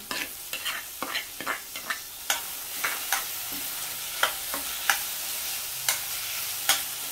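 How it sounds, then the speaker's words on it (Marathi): Tomatoes added to onions frying in oil in a pan, with a series of spoon stirs and scrapes at an irregular rhythm over a quiet, faint sizzle, close by and with no talking. "कांदा परतून झालाय. आता ह्यामध्ये मी टोमॅटो घालते."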